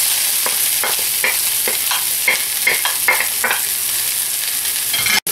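Rice being stir-fried in a hot pan for natto fried rice, with steady sizzling and repeated scraping stirs of a spatula, close and loud, ending in a sharp knock.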